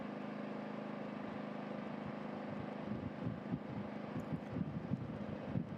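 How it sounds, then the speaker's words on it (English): Wind blows steadily across a microphone at the Navarra race circuit in Spain, a constant low broadband rumble with buffeting gusts growing stronger in the second half, with no voices. "we are often seeing how these cameras are shaking with the wind"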